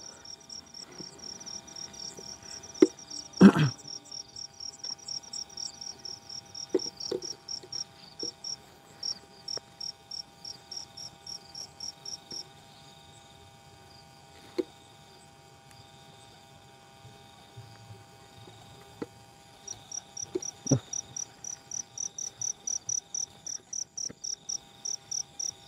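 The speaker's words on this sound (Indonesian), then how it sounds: "jangkrik nih dulu gitu nih" Fighting crickets chirp steadily in a field, rapid trilling pulses in bursts with brief pauses and resuming near the end, over faint background hum and occasional soft knocks.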